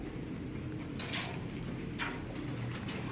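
Soft, low cooing from a dove or pigeon over steady background hiss, with a couple of brief higher bursts of noise, no talking.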